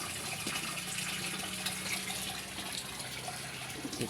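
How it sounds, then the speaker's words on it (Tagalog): A pond water filter runs steadily at a pond holding African catfish, giving a continuous close, trickling and gushing flow of water with a low hum beneath it and no voices. "working ang ating water filter"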